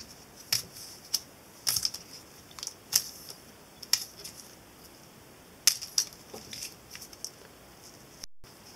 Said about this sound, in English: Kind of peel the tape off like this.